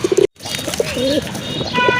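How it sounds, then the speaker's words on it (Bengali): A pair of Jack pigeons coo in soft, rolling bursts: a quick run of short coos, a brief silence, then longer warbling coos, close by against a murmur of background noise. "মাশাল্লাহ দেখেন এক জোড়া জাক কবুতর"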